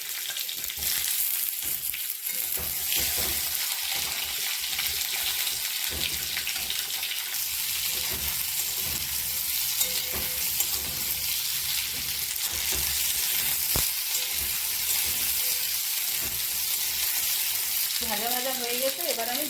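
Potatoes sizzle and fry in hot oil seasoned with black cumin and green chili, a steady loud crackling hiss throughout with occasional stirring clinks, part of a spinach and egg dish.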